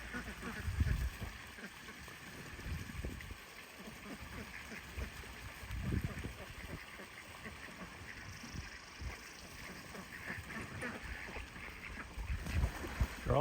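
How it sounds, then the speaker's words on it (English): Ducks leap off a dock into the water and dunk themselves, giving soft, scattered splashes and low burbles that stay faint and fairly distant, with occasional quacks mixed in. "They're all jumping off the dock. Jumping off the dock. Cleaning themselves, dunking themselves."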